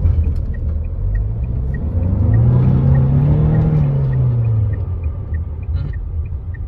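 Tata Safari engine revving hard in first gear on a dirt surface, a loud, steady rumble that climbs in pitch through the middle and then eases back, heard alone with no talking.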